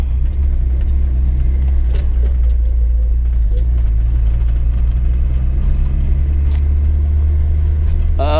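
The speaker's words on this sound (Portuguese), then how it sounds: "Aceleradinha." A turbocharged car engine heard from inside the vehicle, a loud, low, continuous rumble whose pitch creeps gradually upward as it accelerates.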